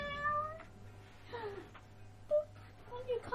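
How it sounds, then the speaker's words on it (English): A pet cat meows close to the microphone indoors, giving several plaintive calls in a row with short pauses between them. "Did your old job also involve a cat just meowing in your ear?"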